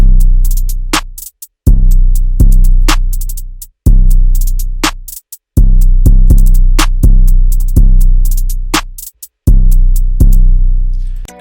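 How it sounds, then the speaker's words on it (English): In a dark trap beat built in FL Studio, a booming 808 bass plays under sharp clap and snare drum hits in a steady, looping pattern, loud and close. "after the 808 we're adding clap and a snare"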